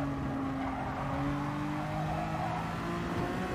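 Honda NSX Gr.3 race car braking in Gran Turismo Sport on the Nürburgring 24hr layout, a loud, close engine whine dropping in pitch as the car slows, with a hint of tyre squeal.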